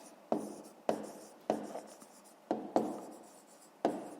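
Pen writing on paper during a fifth-grade maths exercise, a series of close, crisp scratchy strokes, about seven separate bursts with short pauses between, in a quiet room without talk.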